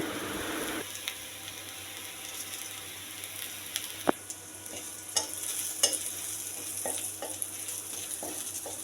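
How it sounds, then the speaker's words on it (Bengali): Onion frying in oil in a kadai before mutton and elephant foot yam go in, a steady low sizzle with occasional sharp stirring clicks and scrapes, fairly quiet and without talk. "একটু পেঁয়াজ দিয়ে তেলে নিচ্ছি সেন্ট হওয়ার জন্য"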